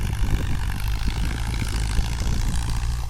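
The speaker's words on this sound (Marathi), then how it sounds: "समोर पाहू शकतात की ट्रॅक्टरचं काम सुरू आहे" Tractor engine at work in a rain-soaked sugarcane field strewn with crop trash, a loud, steady low rumble that runs continuously and close throughout with no pauses.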